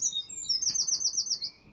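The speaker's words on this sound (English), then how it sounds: "You hear those birds" A small bird chirps nearby in a quick, high trilling run of notes that ends with a brief tweet.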